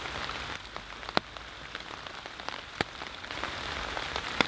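Steady rain patters on a surface on a December night, a soft continuous hiss broken by a few sharper, isolated drips landing close by.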